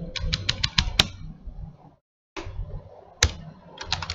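Rapid clattering keystrokes on a computer keyboard while C program code is typed, close and fairly loud, in bursts with a short pause and a few sharper key hits.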